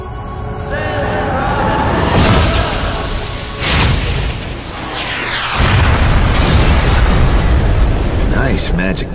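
Loud booming magic missile explosions in an Eat Lead: The Return of Matt Hazard cutscene, heavy blasts with rumbling debris and swelling roar, mixed under voices and score.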